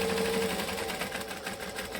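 A sewing machine stitches and back stitches a bag seam, its motor humming continuously and close with a steady rhythmic chatter and no talk.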